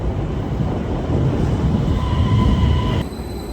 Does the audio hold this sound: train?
yes